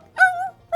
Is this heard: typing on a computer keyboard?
no